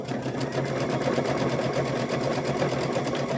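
A sewing machine stitches around lined-up fabric pieces for a stuffed bear, a steady rapid mechanical whir running close and continuous throughout.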